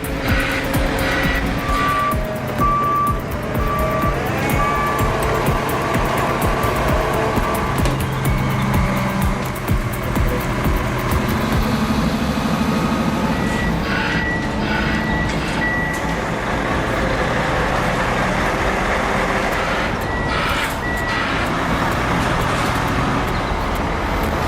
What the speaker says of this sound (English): These trucks are more than feats of engineering.